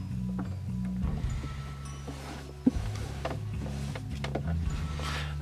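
A sewing machine runs in steady stretches stitching quilting fabric, its motor humming with a rapid stitching chatter, briefly pausing with a sharp click before starting up again.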